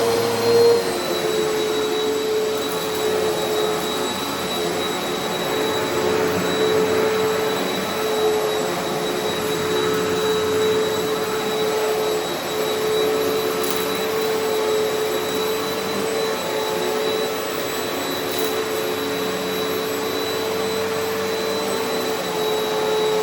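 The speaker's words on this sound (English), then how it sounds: "we haven't been able to properly vacuum under the bed ever" A vacuum cleaner runs over old, long-unvacuumed carpet under a bed, with a loud, continuous steady whine and roar that holds without pause and with no talking.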